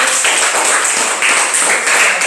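Classroom students clap together in a loud, close burst of rapid, uneven hand claps that fills the room, keeping up an energetic, bright patter with no voices over it.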